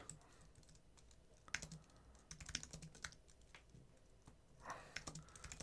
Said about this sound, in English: What if I start typing